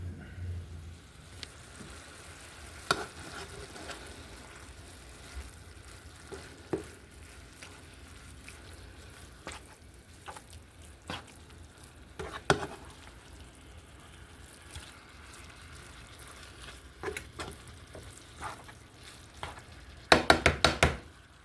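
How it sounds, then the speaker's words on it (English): Ground meat cooking in a pan for Korean sloppy joes gives a quiet, continuous sizzle, with scattered sharper crackles and brief pops, including a small cluster near the end. "Alright, so while our meat is cooking,"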